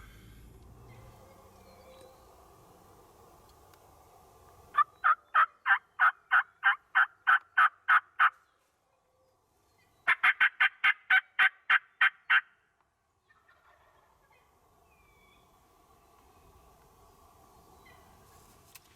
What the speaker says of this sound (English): Wyatt's got this hen fired up with two toms right behind her.